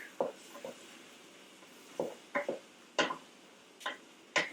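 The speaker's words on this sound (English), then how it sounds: "So we're stirring it, getting it to cook." A spoon stirs cowboy beans cooking in a pot, giving several sharp scrapes and clinks against the pot at irregular intervals over a quiet background.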